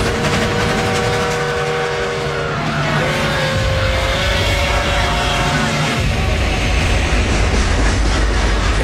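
A train carrying prisoners to concentration camps rumbles loudly and continuously, with steady rolling noise and long screeching metal tones rising and falling over the din.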